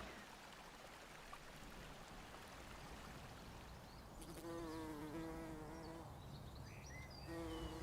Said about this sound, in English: I'm surrounded here by this beautiful buzzing. These pulmonarias are full of bees.